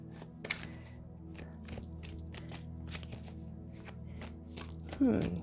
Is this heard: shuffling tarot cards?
yes